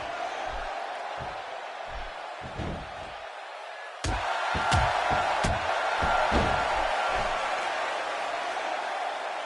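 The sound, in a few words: crowd in a WWE SmackDown video game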